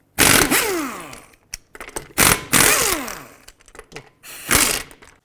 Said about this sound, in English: I'm going to take off this wheel, 21mm socket, remove all 5 of your lug nuts.